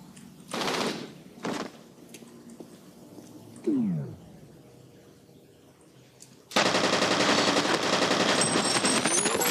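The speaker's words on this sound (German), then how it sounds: "Die fangen an zu schießen." Enemy gunfire in the first-person shooter F.E.A.R.: a few short separate bursts early, a squelching sliding effect, then a loud, sustained stretch of rapid automatic fire that runs to the end.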